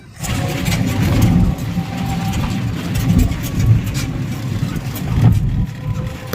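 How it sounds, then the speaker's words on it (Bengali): A toto e-rickshaw bumps along a rough, broken village road, its motor humming with a steady rattling rumble and small jolts, close and fairly loud. "আমাদের টোটো এগিয়ে চলল এবার এখান থেকেই কিন্তু খারাপ রাস্তা শুরু হলো"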